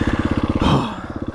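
Off-road motorcycle engine revving at close range, a fast pulsing idle that surges into a brief roar and drops back to a rapid chugging beat.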